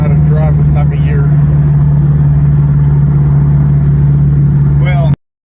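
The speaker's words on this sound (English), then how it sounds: "it turns out my exhaust drone was contributed to that H-pipe" A car's exhaust drones on the road, a steady loud low hum with engine noise throughout. Brief voice fragments sit near the start and end before the sound cuts off abruptly.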